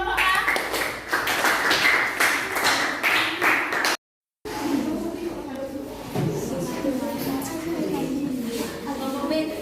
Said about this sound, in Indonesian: Terus ya, tepuk tangan untuk kelompok A.